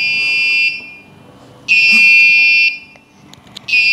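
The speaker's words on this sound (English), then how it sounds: "so that if any person enters the room, it will beep" An Arduino-built anti-theft room alarm sounds in loud, shrill, high-pitched electronic tones: three sustained bursts with short silent gaps between them.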